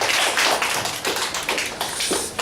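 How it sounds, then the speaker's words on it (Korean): Church congregation applauding during a Sunday sermon, a dense burst of many hands clapping close and steady throughout. "박수로"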